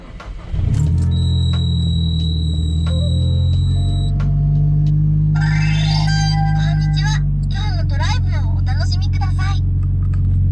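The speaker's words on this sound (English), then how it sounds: "I will show you guys what happens when the car starts up." A Nissan S15 cranks and fires up, settling into a loud, steady idle, while electronic chimes and beeping sweep tones from the dash gauges and a small passenger-seat gadget play over the engine.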